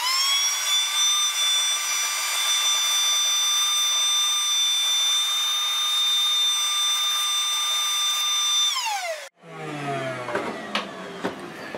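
A metal lathe fitted with a radius ball turner takes a more or less dry cut, a loud steady high whine lasting about nine seconds, then dropping sharply as it slows, followed by rougher scraping and clattering.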